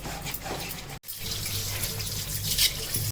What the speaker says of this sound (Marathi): आता हे धुवून घेते स्वच्छ नळाखाली